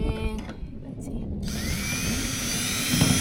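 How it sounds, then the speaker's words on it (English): A smaller power drill boring a few holes into a trailer roof, a steady whining drone that starts after a brief pause and holds continuously and fairly loud to the end. "for those 2 or 3 holes, I'm using a smaller drill"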